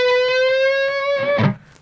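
An electric guitar lick down a G form of A pentatonic major, one sustained bending note with distortion ringing clearly for over a second before a few quick plucked notes and a short fade.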